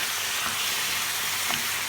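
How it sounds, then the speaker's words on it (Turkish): Steady, dense sizzling of chopped chicken breast and onions frying in a pan, with a couple of faint stirring scrapes, no voices. "Ve iyice karıştırarak kavurmaya devam ediyoruz."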